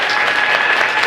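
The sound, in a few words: audience clapping hands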